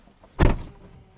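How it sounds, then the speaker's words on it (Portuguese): Bentley Continental GT seatbelt presenter motoring forward just after the door shuts, a brief thump followed by a short, quiet electric whir inside the cabin. "tem aqui o suporte do cinto a deslocar-se até vocês"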